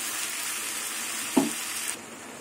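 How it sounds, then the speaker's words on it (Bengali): Vegetables and pui pituli being stir-fried in a pan, a steady soft sizzle throughout with a brief clatter of stirring near the end before the frying quiets slightly. "এবার পুঁই পিটুলি আর সবজি দিয়ে ভালো করে আবার কিছুক্ষণ কষিয়ে নেব।"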